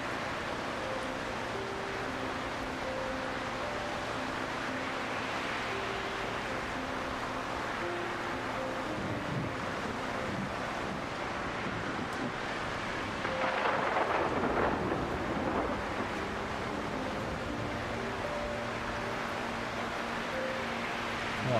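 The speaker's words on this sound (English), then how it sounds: "we probably should not be out in this ship in the storm" A thunderstorm at sea in Solarpunk batters a ship: steady rain and surf hiss throughout, broken midway by a loud rolling thunderclap that rumbles and fades.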